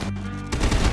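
Turret gunfire in the Rimworld video game: a brief, loud, rapid rattle of shots that starts suddenly halfway through, after a short hum.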